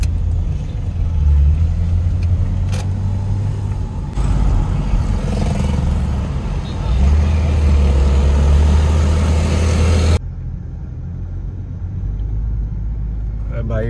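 Heavy traffic jam on the road to the IDEAS 2022 expo in Pakistan, heard from inside a car: a continuous low engine and road rumble that surges and eases, with a voice speaking over it.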